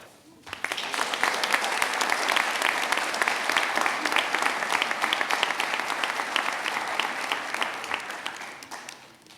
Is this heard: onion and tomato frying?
no